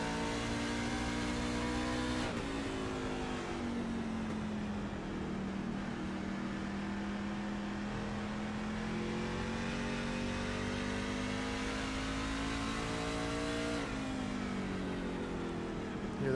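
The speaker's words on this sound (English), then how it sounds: "Hear that truck." Racing truck engine in the iRacing sim, a sustained loud mid-pitched drone that holds steady and shifts pitch near the start and end, as from a passing or shifting truck, with no talk over it.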